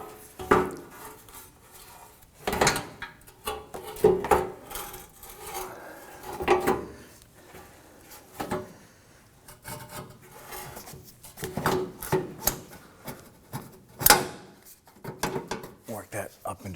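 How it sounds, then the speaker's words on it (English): A radiator guard shield on a 2003-2014 Volvo XC90 3.2L inline-six being worked up into place under the car: scattered knocks and scraping rubs of plastic against metal, with quiet gaps between them. Speech can be heard between the bumps. "I'll install our guard here, or shield."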